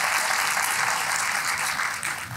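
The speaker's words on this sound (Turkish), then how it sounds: "Kendilerine bir alkış rica ediyoruz sizlerden." A steady wash of audience applause fills an award night for an international short film competition, dense and continuous from many hands, fading slightly at the end.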